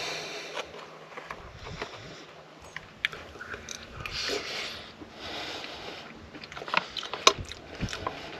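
Close-up crunching and biting as someone chews crunchy noodles with vegetables, irregular bites with small clicks, no talking.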